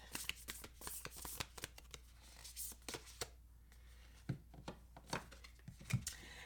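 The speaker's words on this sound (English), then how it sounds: "let's also pull a card from the Whispers of Love" A tarot card is drawn from the Whispers of Love deck: soft papery slides, flicks and taps of cards being handled close to the microphone, quiet and irregular.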